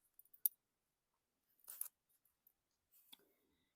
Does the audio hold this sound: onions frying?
no